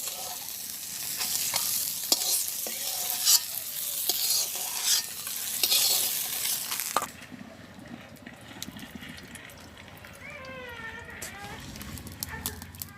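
Fish sizzles loudly in hot oil in a pan in a village kitchen, a steady crackling hiss with stirring for about seven seconds, then the frying drops to a quieter murmur with faint higher tones.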